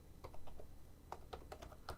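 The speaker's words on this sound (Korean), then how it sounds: "우선 타이핑을 좀 해볼 건데요" Keys on a computer keyboard tapped in quick, uneven bursts, faint and close, with a brief pause midway and no one talking.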